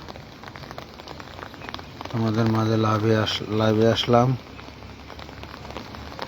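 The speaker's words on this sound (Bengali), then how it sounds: "দেখো কীভাবে ঘুরে ঘুরে বৃষ্টি পড়ছে" Rain falls on a city morning in Cumilla, a soft continuous patter beneath a person talking close by for most of the stretch.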